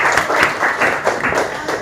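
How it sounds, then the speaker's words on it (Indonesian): A class of students in an Indonesian Islamic studies lesson breaks into brisk group clapping, a short burst of steady applause with faint voices underneath. "Tepuk tangan lagi semua"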